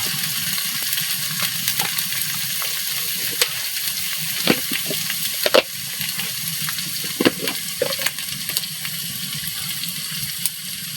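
Spices and turmeric fry in a pan for a village-style pangas fish and bottle gourd curry, giving a steady close sizzle with scattered stirring clicks and scrapes throughout, no talking.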